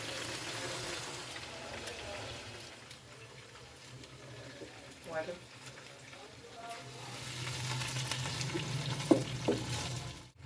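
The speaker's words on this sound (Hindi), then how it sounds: "इस साइड पे मसाले की जो है वो भुनाई हो रही है" Spices roasting in a pan for pea pulao, a soft steady sizzle with occasional stirring scrapes and clinks, fairly close but quiet, with faint voices in the background.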